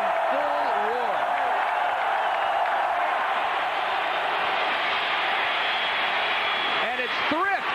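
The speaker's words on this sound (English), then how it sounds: "5th largest crowd in Arkansas history in full roar." Arkansas football crowd at a game against Texas in full roar, a dense, sustained wash of cheering that fills the whole stretch, with a commentator speaking over it at the start and end.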